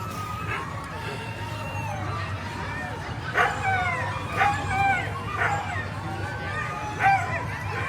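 A pack of sled dogs at the start of a sprint race on 4th Avenue in Anchorage bark and yip eagerly in bursts over a steady crowd hubbub, the barks close and repeated at irregular intervals.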